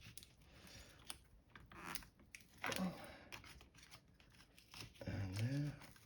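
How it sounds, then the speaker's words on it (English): Cutting during a battery replacement on a 2015 MacBook Pro: faint, intermittent scraping and snipping close by, with quiet talk in the background. "I think here, cut into there a bit more."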